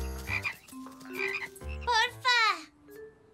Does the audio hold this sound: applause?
no